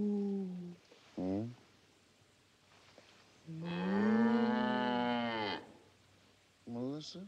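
A cow lows on a small farm: a short moo, a long drawn-out bellow in the middle, then another brief moo, each clear and close against a quiet background.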